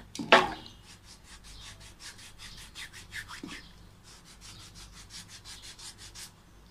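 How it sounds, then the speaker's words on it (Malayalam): A scrubbing tool rubbed back and forth on the rough skin of a foot heel, steady rhythmic rasping strokes close up, loud at first and continuing evenly throughout. "നമുക്കിതൊന്ന് ഉരച്ചു കൊടുക്കുക കാലിൻ്റെ ഇവിടെ"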